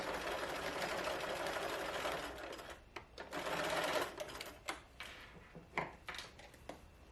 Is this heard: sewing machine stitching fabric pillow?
yes